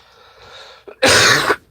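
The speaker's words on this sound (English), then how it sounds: "I didn't want to cough on the live stream in your guys' ear or anything like that." A single loud, harsh cough bursts out near the microphone after a soft murmur of background sound, with a brief catch of breath just before it.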